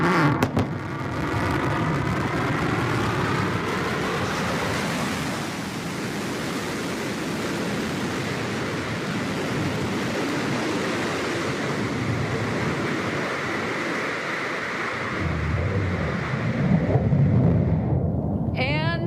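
A New Shepard rocket's BE-3 engine relights during its landing descent, a broad continuous roaring rumble heard from afar that swells and shifts toward the end.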